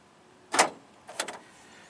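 A Honda Civic door lock actuator, tested off the car, snaps with one sharp click followed by a quick rattling double clack, close and fairly quiet over a faint background hiss.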